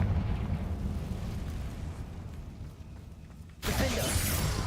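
In the Hogwarts Legacy video game, the Confringo spell lands with a sudden bursting blast after several seconds of low rumbling ambience, a loud shattering eruption that carries to the end.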